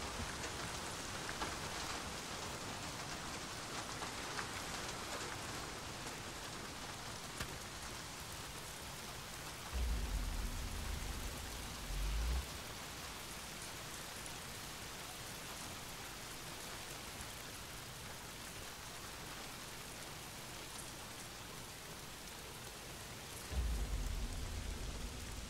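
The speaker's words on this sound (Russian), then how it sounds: "Еще и дождь идет." Steady rain falls continuously, a dense hiss of drops on surfaces, with occasional low rumbles in the background and no voices.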